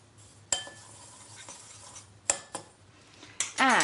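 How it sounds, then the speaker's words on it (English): Smoked paprika being stirred into a dish with a utensil, giving a few sharp clinks and scrapes against the pan spaced across the moment, then a louder burst of clattering stirring at the end, heard alone without talk. "Stir it in a bit, I think."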